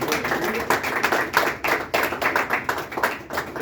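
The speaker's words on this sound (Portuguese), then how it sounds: "Uma salva de palmas para o Senhor." Congregation applauding during a church service in Campinas, a steady burst of hand claps with sharp individual slaps standing out, loud and close.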